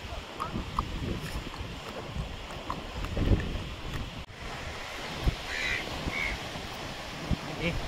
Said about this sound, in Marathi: ज्या समुद्राच्या लाटा आहेत ना त्या खरंच खूप छान वाटतात. म्हणजे त्या आवाजाने आपल्या तो जो उत्साह येतो ना